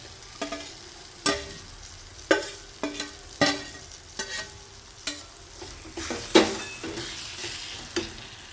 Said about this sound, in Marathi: आता हे चांगल्यापैकी परतून घ्यायचं आहे.